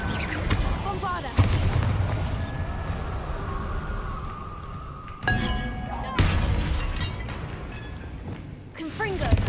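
Bombarda spell explosions in the video game Hogwarts Legacy, several sharp booming blasts with shattering crackle, each tailing off, amid game sound effects and voices.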